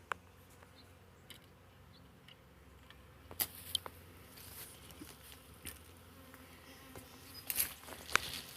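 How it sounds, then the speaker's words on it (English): A honeybee swarm hums softly up in a cherry tree, a faint, distant outdoor buzz with individual bees zipping close past now and then and occasional light taps; nobody talks. "I will show you what's going on with this swarm"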